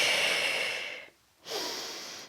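Heavy exhale followed by a pause and a strong inhale, close and breathy, during an abdominal workout; two distinct breaths separated by a brief near-silent gap.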